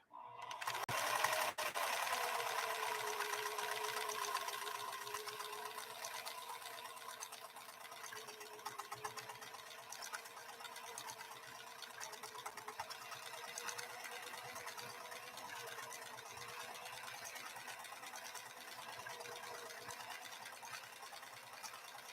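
PFAFF 332 sewing machine stitching at a wide stitch width, a continuous whirring, buzzing motor drone with a steady mechanical hum that runs uninterrupted throughout.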